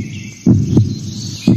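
Heartbeat sound effect for a park advertisement: deep, loud thumps in a lub-dub pattern, a pair of beats followed by another after a pause, over a faint background hum.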